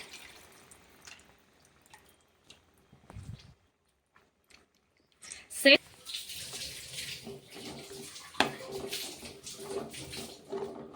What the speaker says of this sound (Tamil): புளி தண்ணியை இதில் நான் சேர்த்துக்கிறேன்